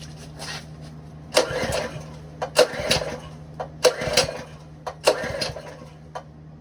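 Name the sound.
Ironton 208cc small engine starting and running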